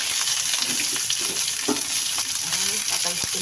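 White onion dropped into hot cooking oil crackles and sizzles steadily, with a dense hiss and scattered sharper pops throughout, close and fairly loud.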